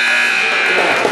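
A loud, harsh basketball buzzer sounds at the end of the third quarter of a high school game between Boys Latin School and Rosedale Christian Academy, blaring as one steady tone close by with faint crowd noise under it.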